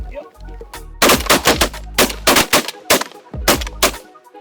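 Shotguns firing while duck hunting: a rapid string of loud, close blasts from several hunters, coming in quick clusters with brief gaps between.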